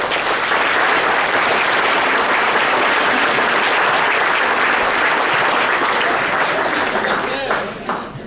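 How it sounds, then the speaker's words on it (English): A banquet crowd at a racing club awards dinner breaking into loud, sustained applause, dense clapping close by that fills the room and fades only in the last second. "Let's give everybody a big round of applause"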